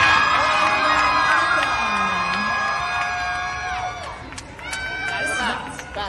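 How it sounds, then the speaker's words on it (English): A crowd at Fanatics Fest NYC goes wild for Rhea, a dense wash of cheers, whoops and high shouted screams that swells and surges for several seconds, with voices rising in pitched yells over the steady roar. "Crowd goes crazy."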